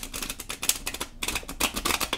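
A deck of tarot cards being shuffled, with quick, dense riffling and flapping bursts in two close runs broken by a brief pause.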